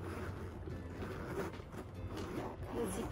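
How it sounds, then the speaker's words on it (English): The zipper on a denim mini bag from an artist-made BTS J-Hope collection is worked open or shut. It makes quiet, close, irregular rasping strokes against soft background noise. "The zippers work really,"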